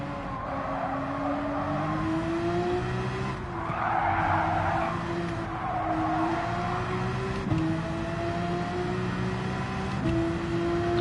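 A Corvette race car in Gran Turismo 7 holds a steady engine drone that climbs through gear changes, with bursts of loud tire squeal and skidding through corners, close and continuous with no talk.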